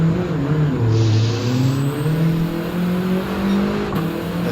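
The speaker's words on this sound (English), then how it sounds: "The turbo whistle sounds pretty cool." Volkswagen GTI engine in Gran Turismo 7, steady loud drone with rising and falling harmonic pitch as it revs through gears, a faint high turbo whistle above, no voices.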